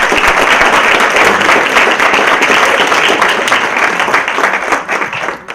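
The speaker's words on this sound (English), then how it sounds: "please give him a round of applause" Sustained audience applause at a business panel event on the opioid epidemic, a dense wash of clapping from many hands that holds steady, then thins and fades near the end.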